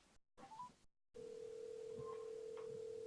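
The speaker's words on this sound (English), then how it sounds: "I'm gonna make a phone call." A telephone dial tone plays as a phone call is started, a steady continuous hum following a few brief handling clicks and rustles, close and clear, with no talking.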